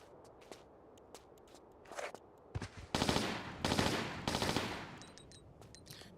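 Uzi fire in the video game Tomb Raider 4, a few quick bursts of rapid gunshots mixed with scattered clicks and game effects, with no talk.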